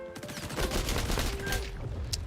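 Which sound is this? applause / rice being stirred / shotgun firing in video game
shotgun firing in video game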